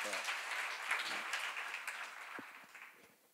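A Korean church congregation claps together during a sermon, a dense patter of many hands that gradually fades toward the end, with a voice briefly audible beneath it.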